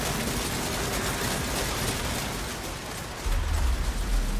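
Rotating rapid-fire Rattling Gun from a Skaven anti-infantry weapons team in Total War: Warhammer II, a dense mechanical clatter and rattle running steadily throughout, with a heavier low rumble swelling near the end.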